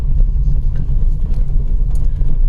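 Steady low rumble of a car driving along a road, engine and tyre noise heard from inside at a constant, fairly loud level with no talking.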